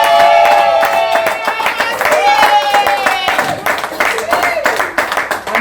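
A wedding congregation claps and cheers together for several seconds, a lively burst of applause mixed with voices and acclamation, loud and close.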